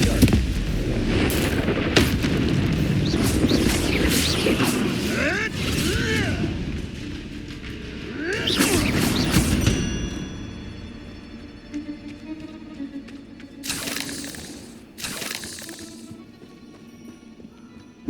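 In the PC game Hogwarts Legacy, the Confringo spell blasts rocks with booming, crackling bursts, one heavy blast midway and another sharp one later, set among rumbling game ambience.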